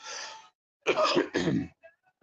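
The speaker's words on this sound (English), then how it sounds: "So I've got a continuous cough" Several close coughs from a man with a cold, one rough burst followed by two heavy, hacking coughs in quick succession, then a faint throat sound, with no talking.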